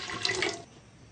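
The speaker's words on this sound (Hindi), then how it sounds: "सबसे पहले हम हाफ लीटर के करीब पानी डालेंगे।" Roughly half a litre of water splashing into a cooking pot for a gobi gosht curry, a short bright pour lasting about half a second before trailing off quietly.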